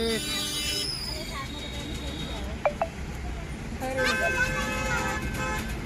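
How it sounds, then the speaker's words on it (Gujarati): Heavy Diwali-season traffic at a busy circle in Palanpur, with repeated car and bus horns honking, two sharp toots midway and a longer burst later, over a constant road rumble and people talking. "એરોમાં સર્કલ આવી ગયું છે, ટ્રાફિક ખૂબ બધી છે।"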